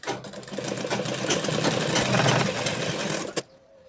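A sewing machine hums steadily at close range for about three seconds while it stitches the seams of a man's cotton underwear, then stops with a sharp click, leaving a quiet room.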